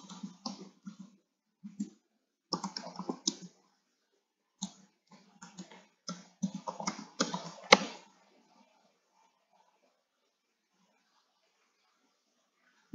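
A computer keyboard being typed on to enter a search query, a string of close, quick key clicks in short bursts with pauses between, then quiet.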